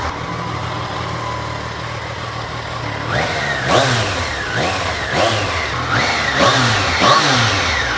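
A Triumph Daytona 660 motorcycle engine idles and then revs repeatedly, rising and falling in a series of sharp throttle blips close by, loud over a steady low rumble; nobody speaks.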